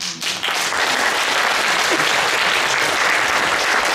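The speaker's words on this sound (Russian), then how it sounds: "Кристина Азарова, ваши аплодисменты." Sustained audience applause fills a stage hall at a creative marathon event, dense and steady throughout after a brief softer start.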